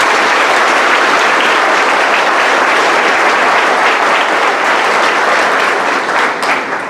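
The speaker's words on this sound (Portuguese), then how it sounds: "peço uma salva de palmas para ele" Loud, dense applause from a church congregation during a Sunday homily, sustained evenly throughout with no speech over it, tapering slightly at the very end.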